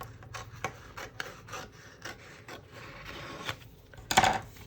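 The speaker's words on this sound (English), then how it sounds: "We're going to take our weeding tool, and this is where we remove any part of the design that we don't need." A weeding tool lifting unwanted heat transfer vinyl from a design for layering on a shirt, close, soft scratchy rubbing and picking sounds in irregular short strokes, ending in a sharper peel, no talking.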